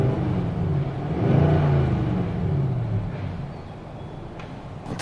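A Nissan Titan Pro4X pickup fitted with a Z1 Offroad cold air intake runs with a steady low rumble, swelling briefly as if revved, then settling into a smooth idle-like hum, close and continuous with no talking.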